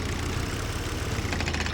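A vehicle engine idling in the video game Titan Chaser, a dense, steady low rumble with a throbbing pulse that runs unbroken and fairly loud throughout, with no voices.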